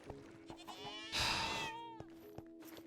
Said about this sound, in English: Wait, a quantum goat just killed my chicken.